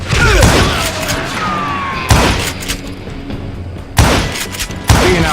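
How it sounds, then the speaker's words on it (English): Loud gunfire in the video game Call of Juarez: Gunslinger, with dense fusillades and heavy booming shots that hit in bursts at regular intervals, along with brief shouting under the shooting. "Who's shooting at you? We're under fire!"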